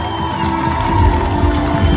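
Festival crowd at an outdoor Nepali stage event cheering and applauding, a dense steady roar of whoops and clapping close by that swells slightly over two seconds.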